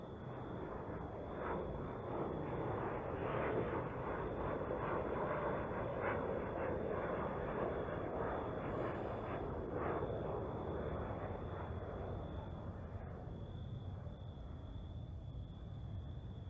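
A fighter jet passes overhead in Ukraine, heard as a steady, loud, broad roar that holds through the whole stretch with no talking over it.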